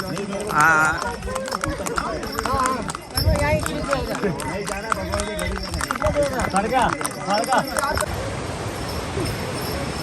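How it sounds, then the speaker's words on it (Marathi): Steady clip-clopping of horse hooves on the Amarnath Yatra mountain route near Pissu Top, over a noisy outdoor scene, with voices and crowd chatter mixed throughout. "आताच आम्ही घोड्यावर निघालो."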